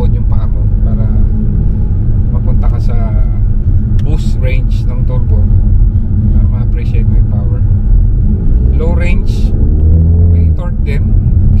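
Ford Mustang EcoBoost turbocharged engine accelerating hard into turbo boost, a loud continuous rumble with rising engine tones near the end, with someone talking over it throughout.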